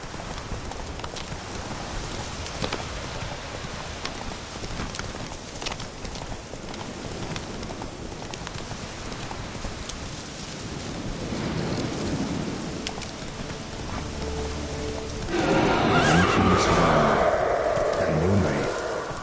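Horse hooves clip-clop steadily through rain and distant thunder in The Witcher 3: Wild Hunt, building to a louder burst near the end; no clear neigh stands out.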